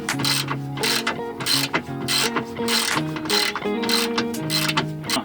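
A hand ratchet clicks in fast repeated strokes while loosening bolts on a campervan, a steady rhythmic metallic clatter up close with no one talking.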